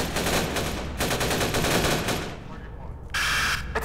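Rapid automatic gunfire in a Half-Life 2 mod video game, dense loud bursts of machine-gun shots with a brief lull before another burst, no talk.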